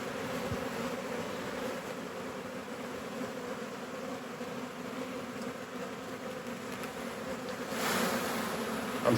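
A mega-swarm of honey bees hums in a dense, continuous buzz while the insects march toward a hive box outdoors. The buzz swells slightly toward the end, and no one speaks.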